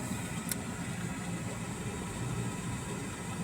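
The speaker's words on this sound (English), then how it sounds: "Engine's working." A car engine runs steadily in a continuous, moderately loud hum with a low rumble underneath, heard close and without talking.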